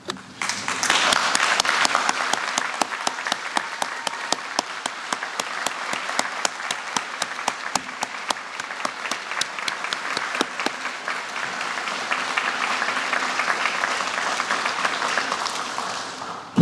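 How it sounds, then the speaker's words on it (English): A standing crowd at a US Army Garrison Fort Greely change-of-command ceremony gives sustained, even applause, a steady wash of many hands clapping that holds for a long stretch before tapering off at the end. "we ask that you stand and give a warm round of applause for Dr. Courtney Orr"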